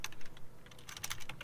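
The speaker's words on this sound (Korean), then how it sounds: "저는 여기다가 그냥 타이핑으로 치도록 하겠습니다" Fingers type on a computer keyboard nearby in quick, uneven bursts of soft clicks, with no other sound.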